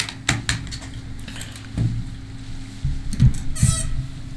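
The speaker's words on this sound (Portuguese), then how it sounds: "Vou até pegar o teclado aqui agora." Someone types on a computer keyboard while playing GTA San Andreas, producing scattered sharp key clicks and taps at close range over low background hum.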